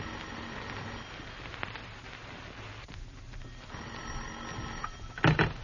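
A telephone rings in a vintage radio mystery drama, a steady mid-level ring running through most of the stretch with a brief louder burst near the end.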